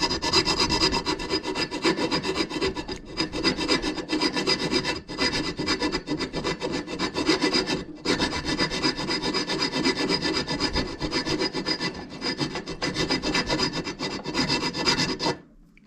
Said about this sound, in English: I'm gonna say hand filing definitely humbles you as far as strength goes and endurance